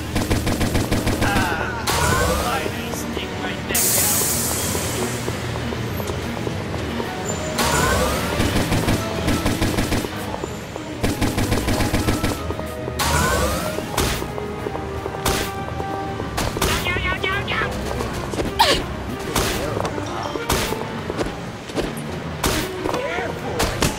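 A nectar blaster weapon fires in the video game Insecticide, with loud rapid bursts of gunfire-like shots in repeated volleys separated by short pauses, and a voice talking over parts of it.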